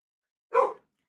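A single dog bark, short and moderately loud, standing alone against silence.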